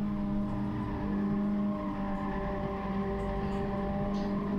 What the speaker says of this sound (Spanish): Ahí podíamos escuchar toda la potencia de estos motores de la Copa TC2000